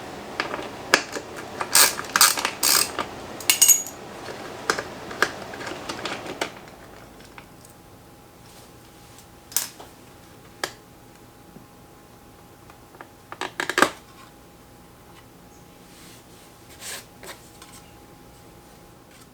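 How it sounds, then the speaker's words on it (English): A chrome side cover being pulled off a Suzuki Bandit 1200 motorcycle, a close series of sharp plastic and metal clicks and rattles for several seconds, then sparse faint clicks. "just pulling that chrome cover off"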